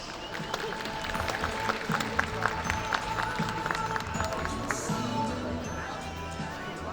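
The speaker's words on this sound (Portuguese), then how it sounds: "Uma salva de palmas." An audience at an engineering conference gives a round of applause as the panel president is welcomed to the stage, a dense steady patter of many hands, moderately distant, with a voice over the top.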